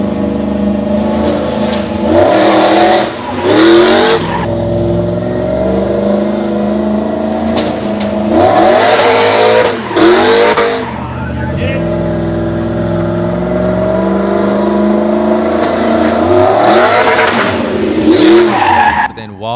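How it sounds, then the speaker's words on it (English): A stunt truck for a film shoot drives up onto two wheels, its engine revving and tyres squealing in repeated loud bursts, with people talking in between. "they did a few run-throughs just with the truck itself, and it deemed to be hard to get it to stay on two wheels."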